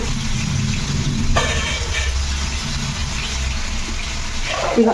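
Cold water poured in to rinse, a steady close gushing and splashing flow running throughout with a few faint clinks.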